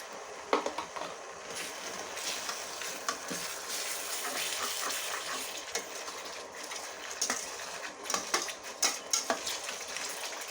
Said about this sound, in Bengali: এই পর্যায়ে দিয়ে দেবো কিছু পরিমাণ পানি